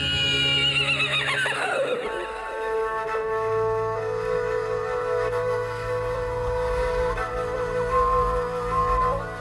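A horse at Yakut horse racing during the Yhyakh summer festival gives a loud, descending whinny, followed by a long, steady droning background.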